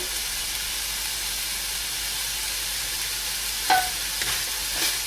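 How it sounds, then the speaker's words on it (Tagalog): Pork cubes and pepper sautéing in a pan for lumpia filling, a steady loud sizzle throughout with a couple of brief scraping stirs near the end. "continue lang natin yung paggisa"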